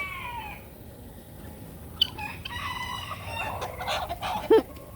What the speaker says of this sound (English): That's one of my obnoxious guineas.